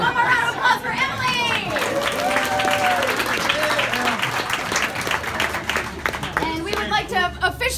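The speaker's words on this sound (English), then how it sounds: "one more round of applause for Emily." An audience at a bar and arcade ribbon cutting claps in sustained applause mixed with crowd chatter, fairly close and busy, tapering toward the end.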